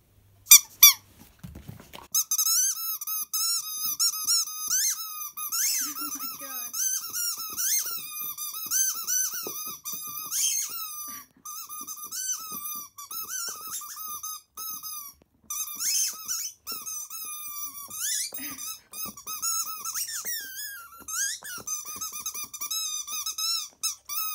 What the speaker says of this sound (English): Trying to muffle the squeak on my speaker, on my phone.